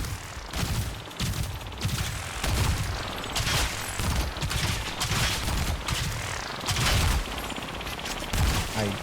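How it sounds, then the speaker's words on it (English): A sci-fi shooter game called Steel Shell erupts in a dense, continuous gunfight, with rapid bursts of gunfire and booming shots overlapping loudly throughout. "I then braced for another annoying gunfight."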